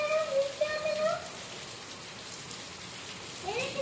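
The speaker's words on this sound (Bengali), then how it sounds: "এত জোরে বৃষ্টি হচ্ছে" Heavy storm rain pours down steadily in a dense, continuous roar of drops on surfaces, with faint voices in the background.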